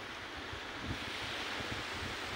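Steady wash of sea waves on a beach mixed with gusting wind buffeting the microphone, a continuous broadband roar with faint surges and no talking.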